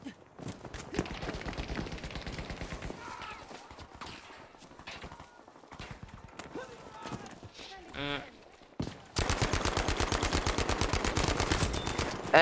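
Rapid automatic gunfire and scattered shots from Battlefield V gameplay as a medic, bursts of varying loudness with a dense sustained volley near the end.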